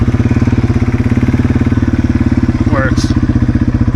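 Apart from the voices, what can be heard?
RC hybrid Yamaha TW200 motorcycle engine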